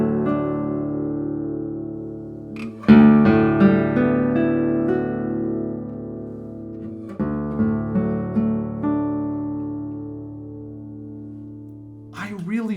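Full, sustained opening chords strummed on a 2016 Philip Woodfield classical guitar, rich and resonant, with a second chord struck midway and a few lighter notes trailing into the ring-out.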